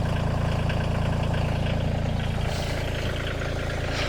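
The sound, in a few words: tractor engine idling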